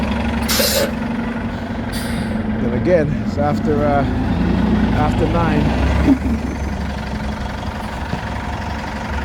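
City buses idle with a low diesel rumble while air brakes hiss in sharp bursts, close by on the street, under a voice talking.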